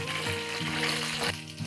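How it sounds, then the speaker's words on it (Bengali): Panch phoron and crushed garlic fry in hot oil for a pickle, giving a steady close sizzle with a sudden louder burst near the end as the garlic hits the pan, and a low tonal hum underneath. "পাঁচফোড়নটা একটু ভাজা হয়ে গেছে দর্শক দেখেন, তো আমি এখন রসুন ছেঁচাগুলা 2টা রসুন ছেঁচা আমি দিয়ে দিলাম"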